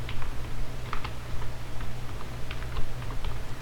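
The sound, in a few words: computer keyboard key presses (Ctrl shortcuts)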